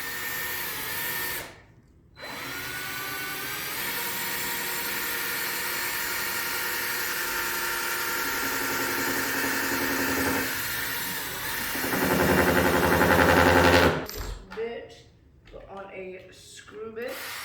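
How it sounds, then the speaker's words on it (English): A power drill bores a hole through two pieces of wood being built into a large custom wooden painting canvas. A loud, sustained motor whine runs for about twelve seconds with a brief pause near the start, then shifts pitch as the bit breaks through, and talking follows. "I'm going to take my drill. I'm going to drill a hole through these two pieces."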